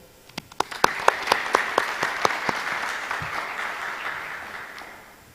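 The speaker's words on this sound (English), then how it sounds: "Could you please give them a big round of applause?" A conference audience bursts into applause, beginning with a few sharp separate claps that quickly swell into a dense, even round of clapping, then gradually fade toward the end.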